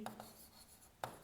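Chalk or marker writing a label on a classroom board during a physics lesson, two or three short scratchy strokes, fairly faint and close.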